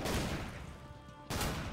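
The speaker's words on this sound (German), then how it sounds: "Ich höre Schüsse!" Gunfire in the video game Trouble in Terrorist Town: a dense, loud crackle of repeated shots that fills the clip, breaks off briefly near the end, then bursts back in.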